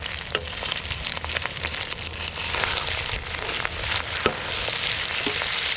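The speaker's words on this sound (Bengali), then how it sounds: "মশলা যে কষানো হচ্ছে" Masala with tomato and green chili sautés in a pan over medium flame, giving a loud, continuous close sizzle with crackles and occasional stirring scrapes.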